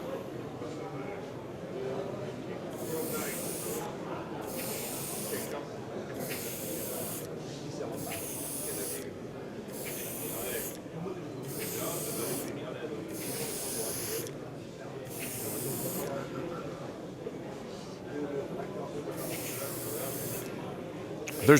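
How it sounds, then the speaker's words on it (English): Paint spray gun atomizing paint in a workshop demonstration, a steady hiss broken into repeated bursts of a few seconds each, with a voice talking over it. "you're atomizing paint"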